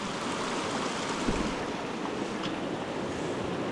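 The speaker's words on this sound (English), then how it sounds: "come up with a good tactic to get across this swollen creek" A swollen creek in the Colorado mountains rushes loudly and continuously nearby, a dense, even roar of churning water with some wind noise and no voices.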